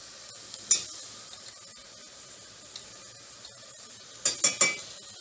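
Onions frying in a pan as garlic goes in, a soft steady sizzle with a few sharp clinks and scrapes near the start and a cluster of louder clatters near the end, no voices.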